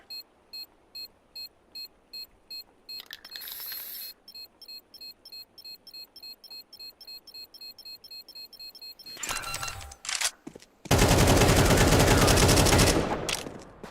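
Gunfire in Counter-Strike 2 breaks out near the end, a dense loud burst of rapid shots following a quieter stretch of steady repeating beeps from the planted bomb, with a short crackle of shots just before.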